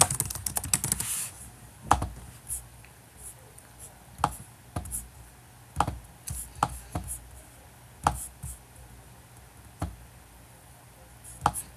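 Keys on a computer keyboard are tapped in sparse, irregular clicks and short bursts, close and fairly crisp against a quiet room.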